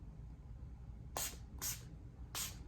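A Beauty Creation setting spray gives three short, airy puffs of fine mist, each a soft breathy hiss about half a second long, separated by quiet pauses, heard close up with no talking.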